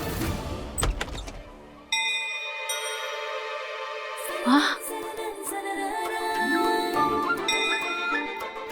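A bell-like ding rings out over music, with tonal chimes and a brief bright strike, fairly loud, no talking.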